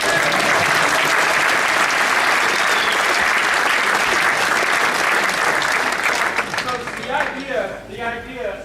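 Audience applause at a live drum show in London, loud dense clapping filling the space for about seven seconds before thinning into scattered claps and murmuring voices at the end.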